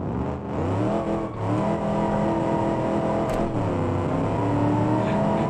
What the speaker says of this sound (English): Spinning tires.